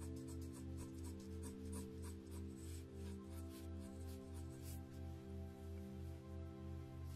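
A pencil sketches a Ghostface drawing on paper, faint scratchy strokes repeating in short bursts close to the microphone over a quiet, pulsing background hum.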